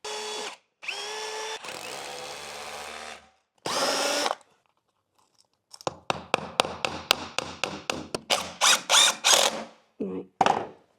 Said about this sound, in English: Put a couple of screws in.